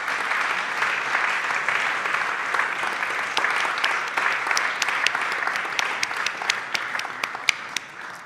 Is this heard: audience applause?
yes